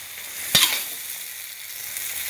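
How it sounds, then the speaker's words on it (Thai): Sponge gourd and egg stir-frying in a pan make a soft, steady sizzle, with one sharp crackling burst near the start as the ingredients are stirred. "ผัดบวบหอมใส่ไข่นะคะ"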